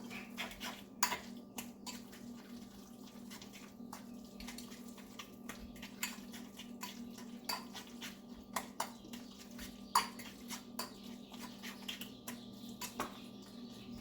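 Food is being mixed in a pan on the stove for a tuna dish, with soft, irregular clinks and scrapes of a utensil against the pan over a steady low hum, faint and close, with no speech.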